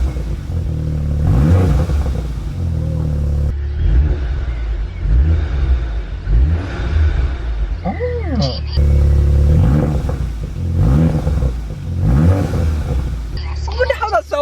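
A VW Scirocco with a new aftermarket exhaust and turbo revs repeatedly in loud, rising and falling engine surges with a deep rumble, while someone talks over and between the revs.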